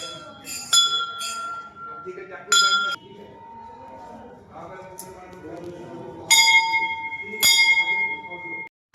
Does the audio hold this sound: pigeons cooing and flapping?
no